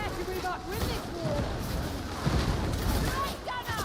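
Dense ranged gunfire fills a firefight in Warhammer 40,000: Darktide, a constant rattle of shots and booms under continuous game noise and effects.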